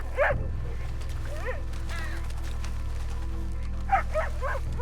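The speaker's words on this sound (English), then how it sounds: "Where's that barking coming from?" A dog barks and yips in a few short bursts, somewhat distant, over a steady low background hum, with no speech.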